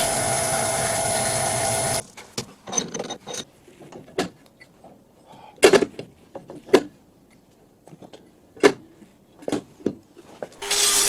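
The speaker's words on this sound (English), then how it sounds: "A little filing to make the nut a bit compact." A metal nut being filed by hand during metal turning work, with a steady machine-like whir for the first two seconds, then irregular close rasping and scraping strokes separated by quiet gaps.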